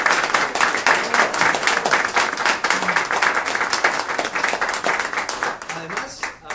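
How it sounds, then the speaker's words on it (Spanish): A live audience at a talk breaks into dense, sustained applause that fills the whole stretch at steady loudness, with a few voices mixed into the clapping and a slight easing toward the end. "un aplauso para todos ustedes"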